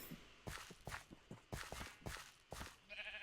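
In the Minecraft video game, a sheep gives a short bleat near the end, after a series of soft, evenly spaced footsteps. The sounds are quiet and there is no talk.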